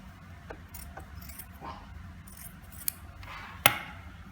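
Scissors snip through a fabric scrap during hand sewing, giving a few faint, quiet cuts followed by one sharp, close click of the blades.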